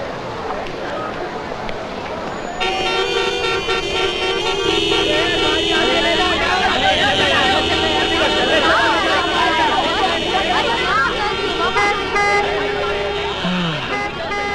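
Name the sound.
city traffic with car horns honking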